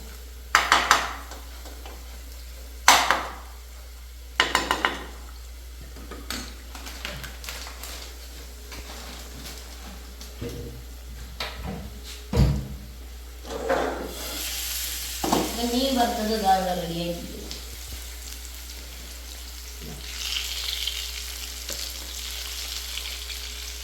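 Stirring frying ingredients in an oily pan for a Kottayam-style fish curry, scattered spoon knocks and scrapes over a low sizzle, with a brief rising hiss and busier clatter near the end.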